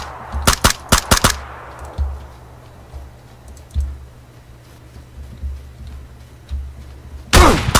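Gunfire rings out in PlayerUnknown's Battlegrounds: a rapid cluster of sharp, loud shots, then scattered quieter single reports, and a final dense burst near the end.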